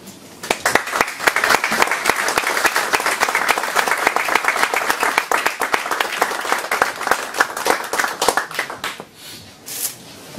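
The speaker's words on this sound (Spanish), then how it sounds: "Un aplauso." Sustained audience applause at a book presentation, a dense, loud patter of many hands clapping for about nine seconds before tapering off, with little talk.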